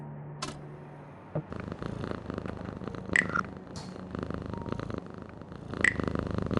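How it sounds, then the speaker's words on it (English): A cat purrs steadily beside an open window on a quiet evening in the video game Frequency Missing, the soft continuous rumble running alone with a few faint brief ambient chimes over it. "There's a cat up there by an open window, enjoying the evening air."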